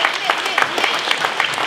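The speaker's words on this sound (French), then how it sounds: "Donc on applaudit Françoise en Mère Noël verte" Audience applause for a woman dressed as a green Mère Noël at a Secours Populaire Christmas gathering in Côte-d'Or, a dense, steady patter of many hands clapping close by for under two seconds, with voices mixed in.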